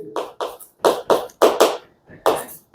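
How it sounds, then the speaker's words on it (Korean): A small group of students in a math class clapping, a handful of distinct sharp claps in an uneven rhythm, close and loud with short gaps between them. "박수!"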